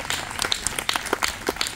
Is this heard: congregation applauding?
yes